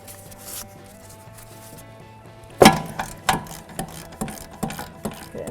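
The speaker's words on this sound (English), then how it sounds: "I can put my ratchet on. Break this one free." A ratchet on a 14mm socket and extension breaking a brake caliper bracket bolt free: a sharp crack, then a series of clicking ratchet strokes at an uneven pace, close and clear over faint background noise.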